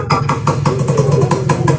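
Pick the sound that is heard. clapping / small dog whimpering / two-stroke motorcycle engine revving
two-stroke motorcycle engine revving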